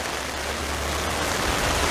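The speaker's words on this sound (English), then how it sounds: "Lots of rain, it's not stopping." Steady rain pours down on a rainy, overcast daybreak in Rockley and Hastings, a dense, continuous hiss close by with no breaks and no voices.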